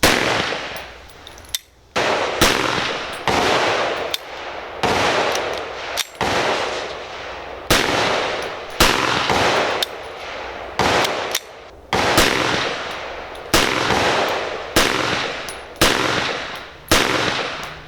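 An AMT AutoMag II .22 Magnum pistol with a suspected firing pin problem fires a long series of sharp, loud shots outdoors, spaced about a second apart with a few longer pauses, each crack trailing a brief echo.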